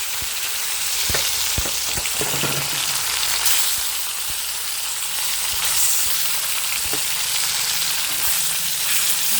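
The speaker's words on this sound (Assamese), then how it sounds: "তাৰপাছত মই এই শ'ল মাছখিনি ভাজি ল'ম" Pieces of snakehead fish fry in hot oil with a loud, steady sizzle, broken now and then by a few sharp clicks from stirring.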